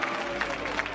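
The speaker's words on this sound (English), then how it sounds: "Wolfpack fans applauding," NC State Wolfpack fans applaud at a college baseball game at Virginia Tech, a steady wash of clapping and crowd noise with a broadcaster's voice over it.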